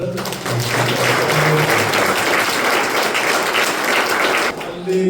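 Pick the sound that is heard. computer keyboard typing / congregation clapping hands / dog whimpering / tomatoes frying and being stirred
congregation clapping hands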